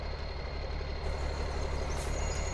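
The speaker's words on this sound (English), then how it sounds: "I think I might leave this truck running." A truck engine idles in Farming Simulator 19, a steady loud rumble that holds constant throughout with no voices.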